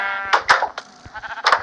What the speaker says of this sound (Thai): นี่ครับนี่คือแกะ